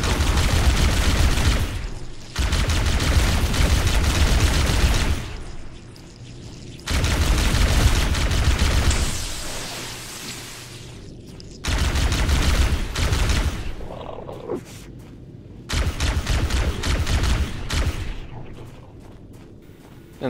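Loud, dense bursts of gunfire and explosive booms in the video game Halo Anniversary, several sustained volleys of a few seconds each separated by brief quieter gaps.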